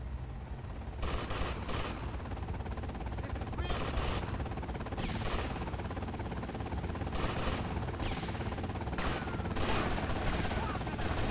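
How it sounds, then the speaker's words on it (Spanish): Helicopter and bursts of automatic gunfire in GTA Vice City Remastered, a dense, continuous loud mix of rotor drone and repeated rapid shots with no pauses. "Escúchame, que viene un helicóptero también, ¿eh?"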